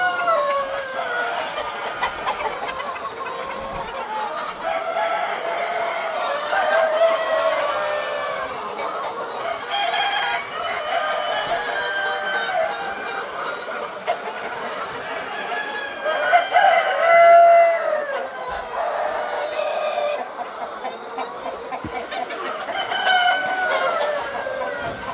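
Classic hybrid laying hens, about 110–115 days old and just starting to lay, cluck and call steadily in a flock of 2,000 birds, with at least one rooster-like crow rising above the constant din.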